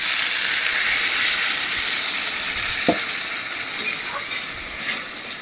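Small splash of water poured into a hot pan of banana stem (thor) curry with potatoes and peanuts, setting off a loud, steady hiss and crackle of frying, with a few soft clinks of stirring.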